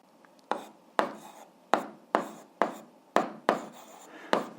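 Pen strokes write out an algebra expression, five x minus y, in about eight sharp, evenly spaced scratches, each with a quick attack and a short fading tail. Close and fairly loud, with no talk.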